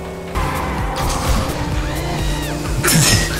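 A car crashes during a race in the Midnight Club video game, with crunching impacts, scraping and a brief screech over a steady engine roar, loud and close.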